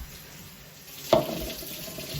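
Hot water runs from a kitchen tap into a cup, starting with a sudden splashing gush about halfway through and then settling into a steady, close stream.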